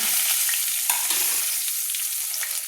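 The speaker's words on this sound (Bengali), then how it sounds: "দিয়ে আমি একটু ভালো করে নেড়ে নিলাম" Green chillies and crushed garlic fry in a pan, a steady close sizzle broken by a few scrape-and-stir knocks of the spatula.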